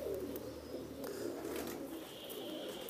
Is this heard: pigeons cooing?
yes